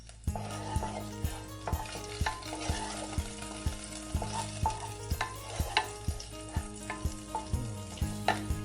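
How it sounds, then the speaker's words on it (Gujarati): Ginger, chili and coriander paste sautés in a little oil in a pan, sizzling steadily while a spoon stirs and scrapes in a regular rhythm of close, repeated knocks. "પેનમાં આપણે થોડુંક તેલ લઈશું અને પછી જે આપણે પેસ્ટ બનાવી છે આદુ મરચાં અને કોથમીરની એને આપણે નાખી દઈશું એને સોતે થવા દઈશું"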